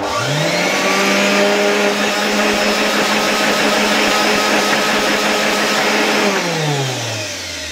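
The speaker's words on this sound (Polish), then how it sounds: "Włączam sobie listwę zasilającą i włączmy odkurzacz." A 1984 Zelmer 200 vacuum cleaner switched on through a power strip: the motor whines up in pitch, holds a loud steady drone with a rising and falling tone, then spins down as it is switched off near the end, with no voices.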